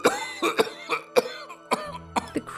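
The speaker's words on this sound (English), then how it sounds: "The creep began to cough." A man coughs repeatedly in a close, dry series of about eight sharp bursts with short gaps, some with a throat-clearing edge, alone with no speech.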